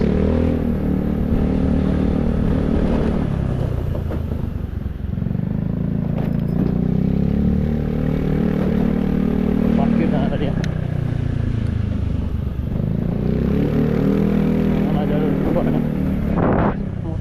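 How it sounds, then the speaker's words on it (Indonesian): Heavy motorcycle traffic on a road in Bali near Ngurah Rai airport, engines droning and revving past in waves, close and loud, with people talking over the traffic noise. "Motor semua nih."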